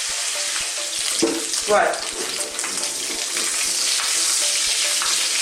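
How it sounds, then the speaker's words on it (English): Pork ribs sizzle and fry in hot oil with ginger, garlic and chilli, a steady bright crackle with occasional stirring, close up, and a brief spoken word over it. "We just want to kind of give it a little browning really, and get that oil and that ginger, garlic and chilli into it."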